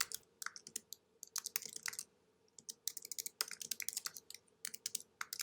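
Rapid typing on a computer keyboard, dense clattering keystrokes in quick irregular bursts, close up over a faint background hum.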